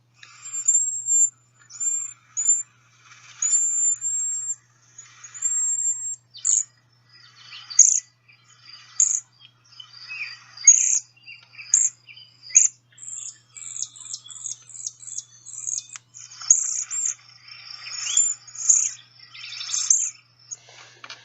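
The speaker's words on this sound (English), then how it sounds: "Here are some Cedar Waxwing calls." Flock of Cedar Waxwings giving thin, high-pitched trilled calls and clear notes, a steady series of short repeated calls from several birds, fairly close and clear against a quiet background.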